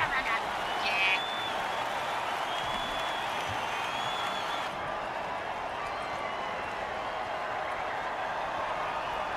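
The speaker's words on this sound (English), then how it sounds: "Oh, crowd's loving it." A stadium crowd in an American football video game keeps up a broad, steady roar and scattered clapping, heard under a commentator's voice.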